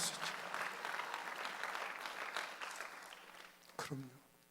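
A church congregation at a Sunday worship service breaks into loud sustained applause that slowly fades out, ending with a brief knock and a few quiet voices.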